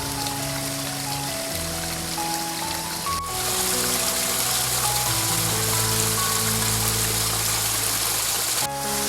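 A cool mountain stream runs steadily near Dasan Chodang in Gangjin the day after rain, a continuous watery rush under sustained instrumental music.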